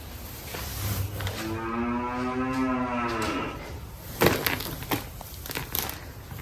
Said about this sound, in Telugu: ఇవేమో ఆవులి మొత్తం, అదేమో ఒంట్లి అనమాట.